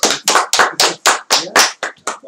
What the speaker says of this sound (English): We definitely need a round of applause, standing ovation for that.